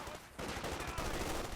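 Light machine gun fire in Company of Heroes 2 during a battle, a dense rapid rattle of automatic shots that starts abruptly after a short pause and continues at close range.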